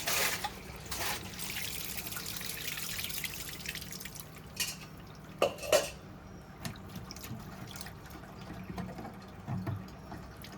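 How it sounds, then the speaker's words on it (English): Water is poured into the drain of an LG washing machine being cleared of a blockage, giving a steady trickle and dribble with scattered drips and a few louder splashes partway through, with no talking. "I'll keep pouring water, please."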